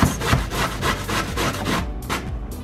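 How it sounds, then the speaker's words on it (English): A peeled carrot is grated in a rapid series of rough, rasping strokes, close and fairly loud, each pass scraping against the grater in a regular back-and-forth rhythm. "You will need 1 carrot that you peel and that you grate."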